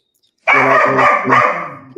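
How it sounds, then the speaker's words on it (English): A dog barks three times in quick succession, loud and close, with the sound of a busy sold-out football stadium crowd around it. "There's somebody's dog there going."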